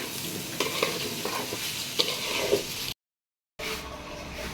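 Rice frying in a pan for pulao, a steady close sizzle broken by scraping stirs and occasional utensil knocks, cutting out briefly near the end before the sizzling resumes.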